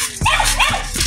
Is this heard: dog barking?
yes